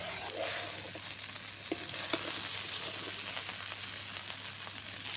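Masala spice paste with a spoonful of water fries steadily in a pan for lentil and pointed gourd curry, a continuous soft sizzle with a few sharper scraping clicks near the middle, fairly faint and with no talking.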